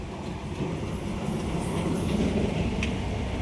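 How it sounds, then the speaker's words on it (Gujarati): A train rumbles past with a steady low roar and faint rattling of the carriages, constant throughout and fairly close. "મિત્રો ટ્રેન જાય છે"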